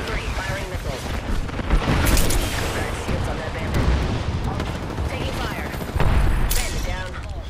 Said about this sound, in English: Block three, firing missiles.